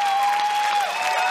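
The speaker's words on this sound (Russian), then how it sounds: "Алексей Рыжов, ваши аплодисменты" Studio audience applause for a jury guest at a comedy league show, a steady, dense wash of clapping with some cheering that holds at an even level throughout.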